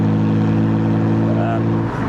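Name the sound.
BMW 125i N52 car driving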